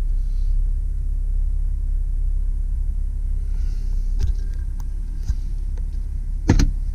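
The sunroof of a 2001 Jeep Grand Cherokee Laredo retracts with a low electric motor hum over a steady rumble, ending in a couple of sharp clicks and a soft thud near the end.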